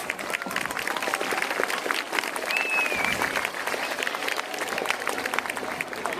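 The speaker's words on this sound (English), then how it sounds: "So give all a round of applause." Steady crowd applause fills the air at an outdoor village Christmas lights switch-on countdown, dense clapping sustained throughout at moderate distance, with a brief whistle partway through.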